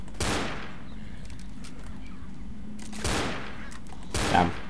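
Gunfire from the Left 4 Dead video game as headshots are fired into a zombie horde in the subway: three sharp bursts, each a loud broadband crack with a short decay, over a steady low game ambience.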